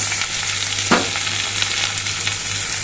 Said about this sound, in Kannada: ಸ್ವಲ್ಪ ಫ್ರೈ ಮಾಡ್ಕೊತೀನಿ.